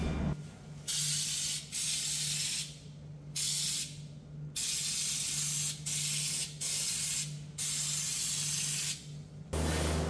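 Repeated bursts of loud hissing spray as Waxoyl rust protection is applied to a Sprinter van in a shop, several on-off blasts of varying length separated by short pauses, over a steady low compressor hum.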